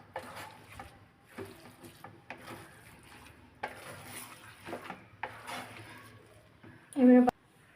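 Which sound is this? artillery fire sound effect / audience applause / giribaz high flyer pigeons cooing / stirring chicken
stirring chicken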